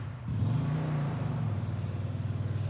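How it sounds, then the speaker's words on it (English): A motorcycle engine rumbles steadily nearby, its low drone rising slightly in pitch as it passes, with no talking. "Hear that motorcycle?"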